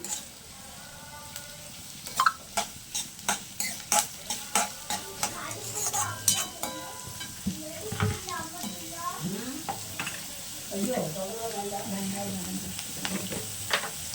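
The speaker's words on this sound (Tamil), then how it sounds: "வெங்காயம் வதங்கினதுக்கப்புறம் நம்ம இஞ்சி பூண்டு பேஸ்ட் எடுத்து வச்சுருக்கோம், அதை போட்டுக்கலாம்." Onions and ginger-garlic paste fry in a pan for an egg and chicken curry, with a steady sizzle under a long run of rhythmic spoon scrapes and stirring strokes, close and moderately quiet.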